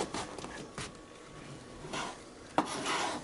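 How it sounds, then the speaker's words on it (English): A knife saws through a loaf of French bread, cutting half-inch slices with a few soft rasping strokes and light taps on the board. "take your loaf of French bread and just half-inch thick little slices off of your bread"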